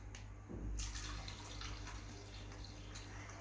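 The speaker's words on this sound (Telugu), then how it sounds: "ఇప్పుడు నీళ్లు పోయాలి" A glass of water is poured into a cooking pot of Nellore pappulusu. A short splashing gush is followed by a soft, steady watery rush, faint and close, with no voices.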